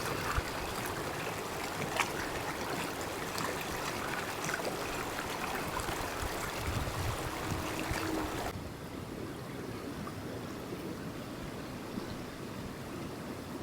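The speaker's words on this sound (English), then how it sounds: "here I'm going to enjoy the sound of this river." An Arctic river flows in a steady broadband rush of water, continuous and fairly close, with the tone shifting slightly partway through and no voices.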